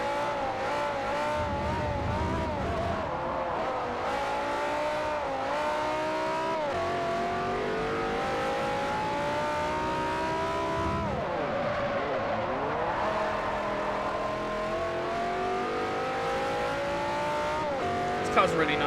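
A race car engine roars continuously in Forza Motorsport 4 during an A-Class multi-class event, revving up and down through gear changes with sweeping pitch shifts, loud and close, with a voice talking over it.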